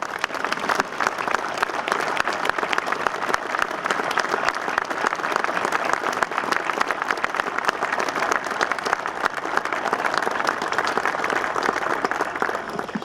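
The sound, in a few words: audience applause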